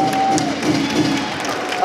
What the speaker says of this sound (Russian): Тайсон Нэм, друзья, ваши аплодисменты